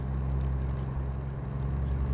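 Steady low truck engine drone from American Truck Simulator, cruising through a highway tunnel, a constant rumble with faint high ticks above it and no talk.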